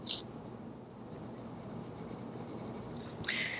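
A Prismacolor colored pencil scratches across paper in soft, steady strokes, with brief brighter scrapes at the start and end, close and alone.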